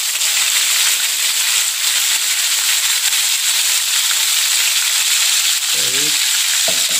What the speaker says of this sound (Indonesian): Sekarang kita masukkan bahan bumbu yang udah kita blender tadi ya.